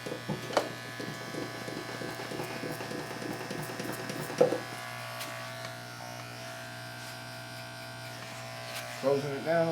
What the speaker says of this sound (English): I'm just tipping the clipper a little bit.